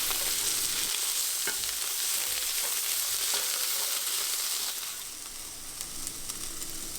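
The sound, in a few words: tomato paste sautéing in a pan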